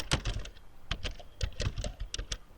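Fingers tap out an SQL command on a computer keyboard, a close, irregular run of crisp keystrokes in quick bursts with short pauses, no voices.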